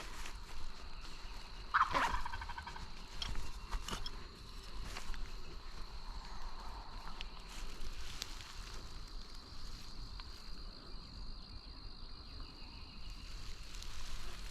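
A big wild turkey gobbles a few times at a distance in a North Carolina woodland. The calls are brief and moderately loud against a faint, steady background hum of insects.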